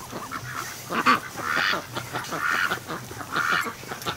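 Ducks on a swamp and lake setting give repeated nasal quacks and honk-like calls, several bursts spread across a few seconds at moderate distance, with no talking.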